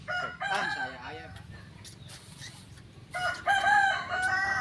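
A rooster crows loudly and close by in several drawn-out calls, with people chatting nearby in between.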